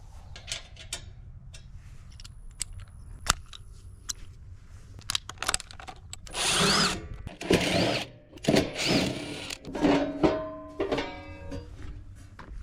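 A power tool backs out the square-drive screws on a Square D electrical panel cover, in short whirring bursts with clicks and clatter between them, growing louder and more continuous toward the end.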